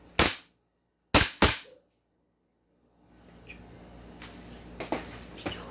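An airsoft Desert Eagle pistol fires three sharp, loud cracks close by, a single shot followed by two in quick succession, then faint outdoor rustling and handling noise.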